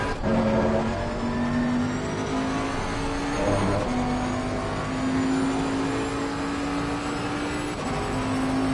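A Bentley race car in Assetto Corsa Competizione at Imola drones with a loud, steady engine note that climbs through the revs, dropping at a couple of gear changes before rising again, with no talk over it.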